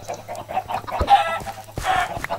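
Minecraft chickens give a run of quick clucks, then two louder, fuller squawks, all near and distinct over a steady low in-game hum.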